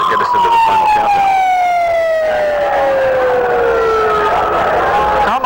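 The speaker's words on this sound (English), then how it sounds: "we've just had the immediate siren to kind of get us into the final countdown" The immediate warning siren sounds before the Three Rivers Stadium implosion, a loud, long wail that slowly falls in pitch over several seconds, with a faint voice underneath.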